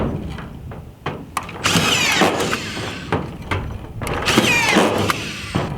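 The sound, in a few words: collated screw gun driving fasteners into metal roofing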